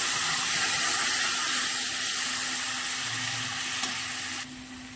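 Loud, steady sizzle and hiss of ground cumin paste and spices frying in hot oil with dried chilli and green chilli paste, close up with no voices and easing off slightly toward the end.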